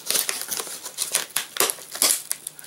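Scissors cutting open a gift package give quick crisp snips mixed with crinkling, rustling packing material, close and fairly loud, in an irregular run of short bursts.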